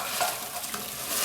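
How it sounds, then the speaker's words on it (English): Onions and tomatoes for butter chicken simmering in a pan over medium heat, giving a steady close sizzle and gentle bubbling with a few stirring scrapes, no talk. "let it simmer on medium heat until the water is dried"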